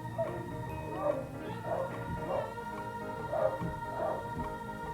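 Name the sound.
puppy barking at feeding time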